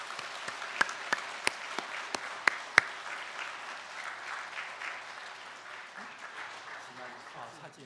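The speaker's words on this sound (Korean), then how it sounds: "우리 서로를 향해서 좀 따뜻한 박수 한번 보내겠습니다" A church congregation at a Sunday morning service breaks into warm applause, with a few sharp, close individual claps early on over broad, sustained clapping that slowly tapers off.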